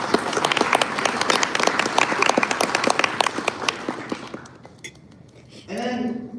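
A banquet audience gives warm, sustained applause, many hands clapping densely for several seconds with faint clinks of cutlery and glassware. The clapping fades out and a voice begins speaking at the end.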